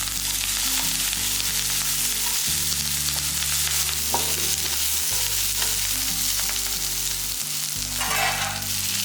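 Coconut, small onions and curry leaves fry briskly in a pan for mutton kuzhambu masala, a dense constant sizzle close up with stirring noises and a low steady hum underneath, no speech.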